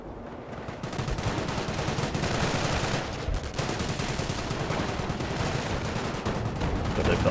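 Dense, continuous gunfire and mortar blasts from a Company of Heroes battle roar without pause, a loud wall of rattling shots and booms.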